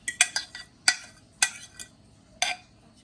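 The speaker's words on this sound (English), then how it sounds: "I'm going to go in with a spatula and we're going to just combine everything together" A spatula scrapes and taps against a bowl while banana bread batter of mashed bananas and liquid ingredients is combined, giving several short clinking strokes at an uneven rhythm, close and fairly quiet, with no talking.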